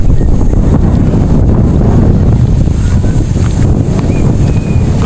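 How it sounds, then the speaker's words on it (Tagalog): Strong wind buffets and roars continuously, a dense rushing noise with no voices. "Buti na lang medyo mahangin"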